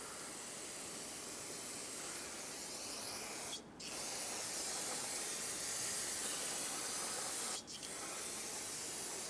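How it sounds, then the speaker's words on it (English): Brake parts cleaner sprays onto the brake dust shield of a 2003-2009 Dodge Ram 2500 in two long, loud hissing bursts, each broken by a short pause. "Rinse it down with brake parts cleaner."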